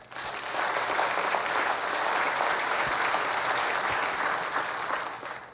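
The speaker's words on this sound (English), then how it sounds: "Let's give them a big round of applause." A business-association audience gives a sustained round of applause at an investor event. Dense, even clapping from many hands fills the room at moderate loudness for about five seconds, then tapers off.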